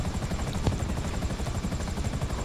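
A video-game helicopter hovers with a steady low rotor thump and engine drone, loud and continuous, carrying no speech.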